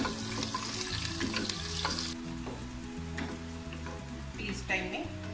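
Onions with mint, coriander, chilli, ginger and garlic paste fry in oil in a pressure cooker for mushroom biryani, giving a steady close sizzle with scraping and stirring, while a voice talks over it.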